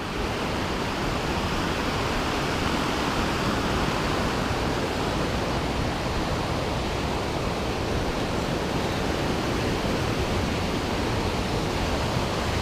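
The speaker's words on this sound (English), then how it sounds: "you can follow the waterfall down the track a little bit" A waterfall in the Sunshine Coast hinterland near Maleny pours steadily, a dense, even roar of falling water heard close up with no pauses or voices.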